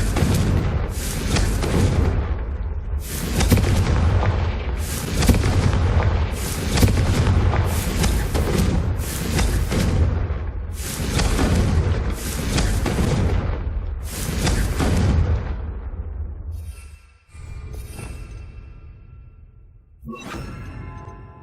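Confringo fire spell blasts in Hogwarts Legacy, a string of about ten loud booming explosions in quick succession, each with a whooshing roar, followed by quieter fading rumbles and a lone final hit.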